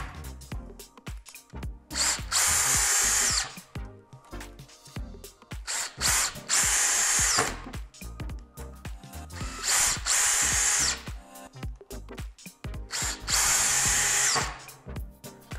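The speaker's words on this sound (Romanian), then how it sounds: "Cam așa se înșurubează șuruburi de 5x90 la 2000 de rotații pe minut." DeWALT DCD791/DCD796 18V XR brushless cordless drill driving 5x90 screws into wood at high speed: four separate bursts of loud, close whirring, each about one to two seconds long, broken by quieter handling and clatter.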